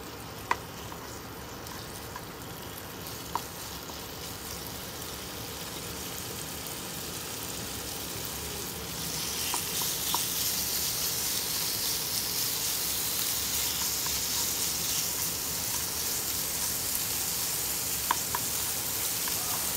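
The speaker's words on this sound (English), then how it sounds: "Now we're gonna fry our meat, our breast first." Chicken breast frying in a pan gives a steady, quiet sizzle that grows brighter and louder about halfway through, with a few faint clicks and no talking.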